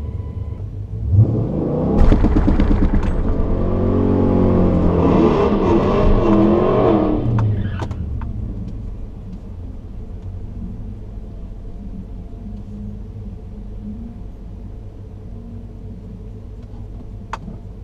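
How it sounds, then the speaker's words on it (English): A Dodge Challenger R/T with long-tube headers racing a Dodge Challenger Hellcat: a deep engine rumble swells into a loud, hard revving acceleration for several seconds, then drops back to a low idling drone. "gonna be racing the Hellcat"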